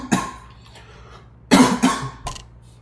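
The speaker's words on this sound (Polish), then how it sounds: "bardzo was przepraszam za mój kaszel" Several sharp coughs from a sick man, one near the start and a cluster of two or three about halfway through, loud and close with no talking in between, heard over a faint steady hum while playing American Truck Simulator.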